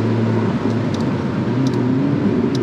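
A McLaren MP4-12C's engine drones at low revs in seventh gear, barely accelerating, with a steady low hum and faint road noise inside the cabin; no talking.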